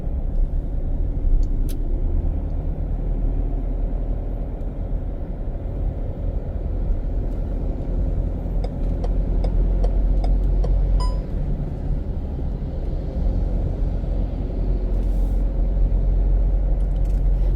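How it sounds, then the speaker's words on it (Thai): Dense, steady traffic idling in a jam at a red light along the Vientiane riverside, a continuous low engine rumble from many cars with faint brief air-brake hisses and squeaks, no voices. "รถติดเนาะขาออก"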